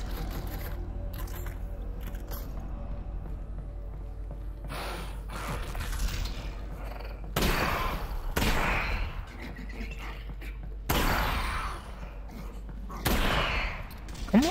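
Gunfire from the video game Half-Life: Alyx, heard as several sharp bursts of shots with mechanical clicking and reloading between them, over a low steady background hum.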